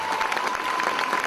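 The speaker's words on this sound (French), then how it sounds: "on peut les applaudir très fort tous les deux" Brief burst of audience applause at a Telethon and Christmas event in Moissac, a steady patter of many hands clapping at moderate loudness with no talk over it.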